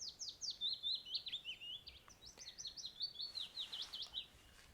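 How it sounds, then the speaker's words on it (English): Willow warblers sing descending, sweet trilling phrases in a territorial dispute at a coastal nature reserve at Walney during the dawn chorus, fairly clear and continuous over faint background hiss. "So the willow warblers are definitely disputing."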